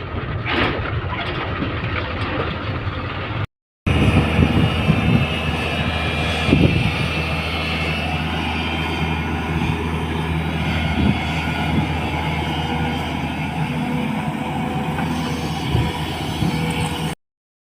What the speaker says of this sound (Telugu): ఇట్లా ఉంటుంది ఇసుక ర్యాంపులో రెండు జేసీలు అయితే లోడ్ చేస్తున్నాయి